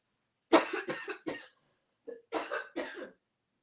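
A series of harsh coughs in two bursts, three close together then a short pause and three more, close and fairly loud.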